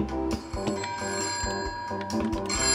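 A telephone rings repeatedly inside the video game Christmas Shopper Simulator, its bell trilling in steady bursts over busy game background sound.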